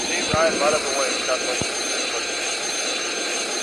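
A jet airliner in the Airline Commander flight game takes off with a steady, loud engine roar and high whine, while a voice talks over it.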